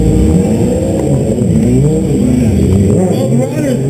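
Stunt motorcycles at a New York City street stunt show accelerate away, their engines loud and close and revving hard in a continuous roar that rises and shifts in pitch.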